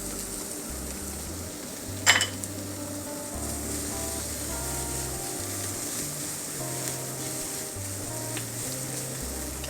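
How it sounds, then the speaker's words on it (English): Chili fries in hot cooking oil, giving a steady close sizzle with one sharp clink of a utensil against the pan, over a low background hum. "So I want to fry this until it's fragrant."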